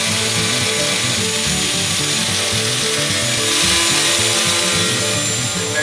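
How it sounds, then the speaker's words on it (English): A power tool trims the sill of a Ford GT40 kit car, giving a loud, continuous harsh grinding rasp with a fluttering low rhythm throughout, close up. "I'm just marking out the sill to trim it off."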